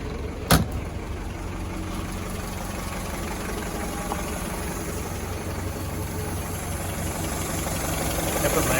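A 1965 Jeep CJ5 engine idles steadily and close after a starter replacement, with a constant rumble, one sharp click near the start, and the idle slightly louder toward the end.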